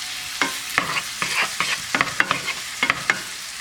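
Shrimp being stirred in a pot with a wooden spoon, a run of close, uneven scraping strokes over a faint sizzle, with no voices.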